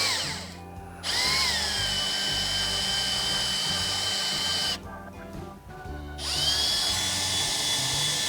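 A small electric pump bleeding fluid during maintenance on a Lexus IS F whirs loudly and steadily, cutting out briefly twice and starting again, with a high motor whine throughout.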